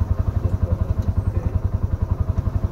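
A tuktuk engine pulses with quick, even low thumps, idling and building slightly as throttle is applied while a learner drives, close and steady with no voices heard.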